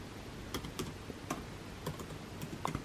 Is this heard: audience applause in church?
no